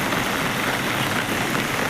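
Heavy rain pours down steadily under a road bridge on NH 66 at Randathani in Malappuram district, a dense, unbroken hiss with no pauses or voices.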